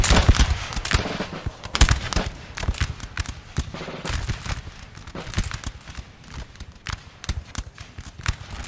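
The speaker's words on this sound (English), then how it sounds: "We may have some grenadiers firing in the back of the Russians." Grenadier musket volleys in Napoleonic Total War 3, a dense, crackling ripple of many shots layered together, with sharp near reports over a continuous rattle of distant fire.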